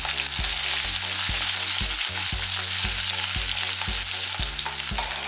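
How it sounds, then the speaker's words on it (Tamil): Curry leaves, garlic and ginger sizzle steadily in hot oil in a pan, with a spoon tapping and stirring at a regular rhythm throughout. "இதெல்லாம் வதங்கிட்டு இருக்கட்டும்."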